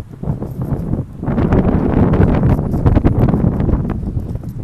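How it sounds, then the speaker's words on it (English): Typhoon wind gusts across a hillside on Hong Kong's Peak, a loud, rough roar buffeting the microphone, easing briefly near the start and then building into a sustained blast. "Alright, the wind's picking up on this side."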